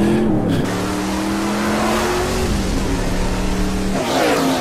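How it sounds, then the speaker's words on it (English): A NASCAR race car revs its engine at Daytona International Speedway, loud and close, with rising and falling pitch and a few shifts before the engine note climbs again near the end. "You can drive a NASCAR race car at Daytona International Speedway."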